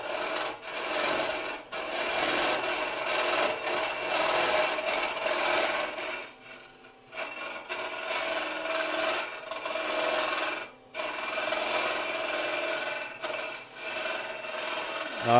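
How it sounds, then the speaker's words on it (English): Hollowing gouge cutting waste wood out of the center hole of a turned Christmas ornament, a steady rasping scrape with brief pauses, close and continuous. "So now I'm going to go into that center hole for a second and get rid of some of that waste wood"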